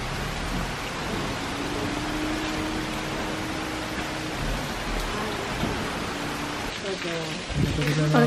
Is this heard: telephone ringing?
no